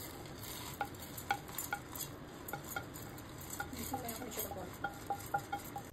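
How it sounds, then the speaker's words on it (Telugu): Red chillies, urad dal, chana dal, fenugreek seeds and cumin dry-roast in a pan, heard as quiet irregular spatula scrapes and light metallic clinks over a faint background hiss. "ఎండుమిర్చి, మినప్పప్పు, శనగపప్పు, మెంతులు, జీలకర్ర యాడ్ చేసి బాగా రోస్ట్ చేయి"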